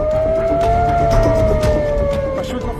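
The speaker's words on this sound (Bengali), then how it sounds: "আঘাত হানার পরপরই ইসরায়েল জুড়ে বাজতে থাকে সাইরেন" An air raid siren sounding across Israel after a missile strike: a loud, sustained wailing tone that slowly rises and falls, with a voice faintly underneath.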